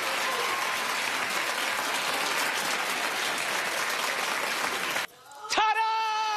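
Studio audience at a daytime television talk show applauds loudly and steadily for about five seconds, then cuts off abruptly as a brief musical sting with a rising swoosh plays.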